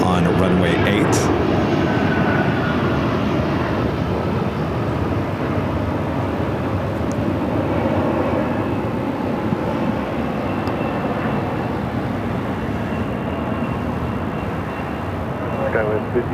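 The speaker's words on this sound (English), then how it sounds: "We're on scene here at Phoenix Sky Harbor Airport for the official takeoff on runway 8" A fixed-wing airliner roars down runway 8 at Phoenix Sky Harbor Airport on takeoff, a loud, broad, sustained engine rumble that holds steady throughout, with voices faintly underneath.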